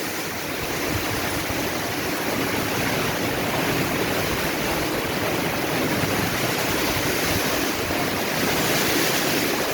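Heavy rain pours down with strong wind around a church neighbourhood in Jatinegara, Jakarta, a loud, unbroken roar of dense rainfall and gusts that holds steady throughout without pause.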